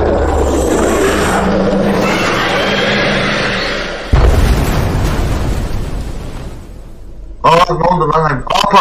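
A heavy explosion in the horror game Haunted School 2 booms loudly for several seconds, its roar fading before a sharp cut, then excited voices talk over the rumble.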